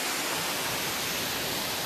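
A waterfall near Chautara in Sindhupalchok, with water falling from above: a loud, continuous broadband roar that stays even throughout, with no voices.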